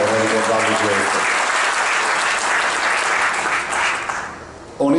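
Loud, dense applause from a large crowd at the opening of a stretch of the Pedemontana Veneta highway, holding steady before fading near the end, when a voice briefly comes in.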